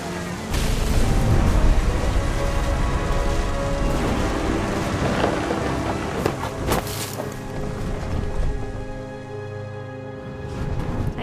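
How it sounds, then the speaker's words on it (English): Heavy rain and rumbling thunder fill a video game scene, a dense steady wash of downpour with low booming swells and sharp cracks, loud and close, with no voices. "The thunder sounded much too close and full of angry power."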